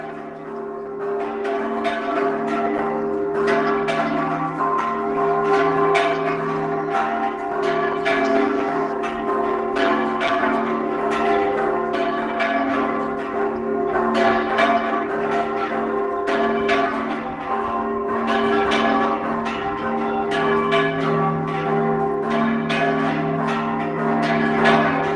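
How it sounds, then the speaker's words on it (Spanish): Church bells at the Santa María Tonantzintla temple ring in a festive, jumbled peal, several bells struck in quick irregular succession over a sustained resonant hum, loud and continuous throughout with no voices. "espero que disfrutes la algarabía de la danza de las campanas en el templo de Santa María"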